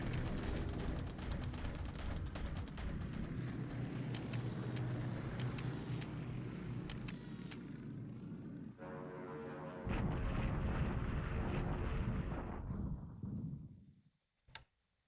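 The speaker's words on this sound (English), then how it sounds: "I'll keep bombing the port because I don't want to build up his fortifications" Continuous rumbling bombardment from a War in the Pacific naval-air strike on an enemy port, dense overlapping blasts and crackle at steady loudness for about fourteen seconds before cutting to silence with one last faint thud.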